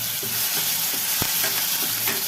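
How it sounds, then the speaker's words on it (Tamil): Ground onion and curry leaves fry in a pan with a loud, constant hissing sizzle, broken by a few scraping stirs of a spoon, close up and with no one talking. "வெங்காயம் நல்லா வதங்கணும் फ्रेंड्स"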